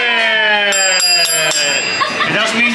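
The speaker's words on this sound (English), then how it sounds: "I have officially rung the tequila bell." A tequila cart bell at a Disneyland Taco Tuesday rings in several bright, close strikes with lingering metallic tones, while people talk and laugh around it.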